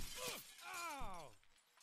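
Glass shatters in the physics video game Happy Wheels, a loud burst of breaking with bright, sweeping tones that fades out over about two seconds.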